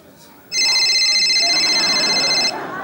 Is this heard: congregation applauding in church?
no